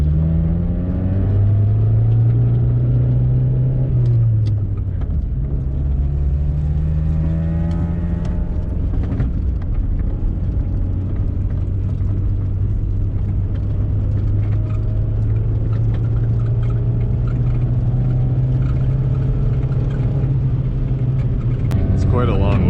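A 1991 Honda Civic RT4WD wagon climbs a snowy mountain dirt road, its engine droning steadily from inside the cabin with rumbling tire noise and small shifts in pitch as it revs.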